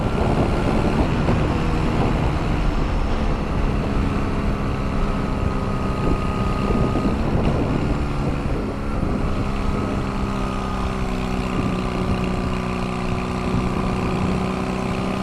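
A Honda Rebel motorcycle engine idling and running steadily, a close, constant droning hum with a low throbbing pulse and some wind rumble, no talking.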